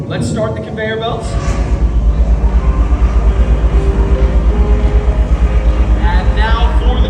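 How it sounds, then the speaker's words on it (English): Mine conveyor belts in a museum display start up, a deep mechanical drone rising and settling into a steady, rhythmic pulsing rumble, with someone talking briefly near the start and end. "Let's start the conveyor belts."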